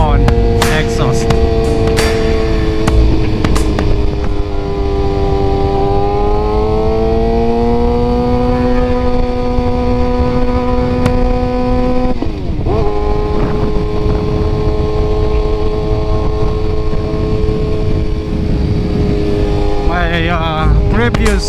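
A 2015 Suzuki GSX-R600 with an SC Project slip-on exhaust runs loud and close, holding a steady high-pitched engine drone with a few shifts in pitch and a brief dip midway, wind buffeting the microphone.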